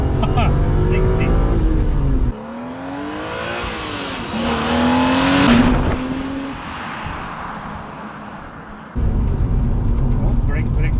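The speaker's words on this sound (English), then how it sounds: "Let's see if it's can do a bit of wheel spin" A neglected BMW E36 M3 Evo under restoration revs hard, its engine note rising and falling in a loud, rough sweep during a wheel-spin attempt, framed by heavy wind-like rumble before and after.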